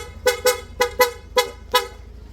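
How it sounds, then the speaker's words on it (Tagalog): An aftermarket PIA horn on a Yamaha Aerox V2 motorcycle gives six short, sharp toots in an uneven pattern, loud and close, with a faint low hum underneath. "PIA horn na po yung tutunog."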